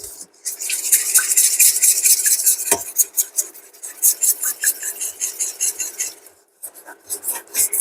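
A utensil stirs lactose-free milk into a cauliflower cheese sauce, added little by little, with close, steady scraping and rubbing strokes against the pan in a repeated rhythm, briefly pausing near the end before resuming.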